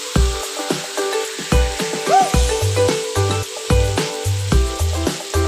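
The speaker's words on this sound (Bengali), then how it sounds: "একদম মাংসটা আমার একদম প্রায় ভাজা ভাজা হয়ে গেছে" Goat meat frying in a pan as its liquid cooks off, a steady close sizzle broken by repeated knocks and scrapes of stirring, with no voices.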